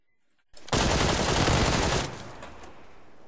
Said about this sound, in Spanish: Escuché ese disparo.